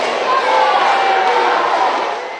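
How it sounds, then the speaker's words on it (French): Thunderous applause and crowd noise from workers welcoming Captain Traoré, president of Burkina Faso, a dense, steady roar of clapping that stays loud for the whole stretch before easing slightly at the end. "tonnerre d'applaudissements pour accueillir le président du Faso"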